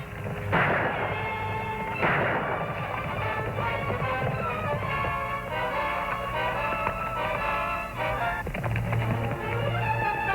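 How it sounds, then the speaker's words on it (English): Gunshots ring out from a cabin in a 1955 Western TV setting, with two sharp loud bursts early on, then a dense layer of music and background noise carries through to the end. "Those last shots, they came from Boomer's cabin."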